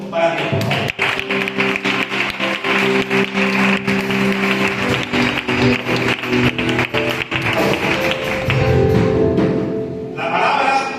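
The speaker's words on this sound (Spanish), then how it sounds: "Rogaría que le diésemos un fuerte aplauso para Dios." A church congregation claps loudly together after a Spanish-language sermon on Mark 2, quick dense hand claps with a sustained musical tone underneath, fading briefly near the end before picking up again.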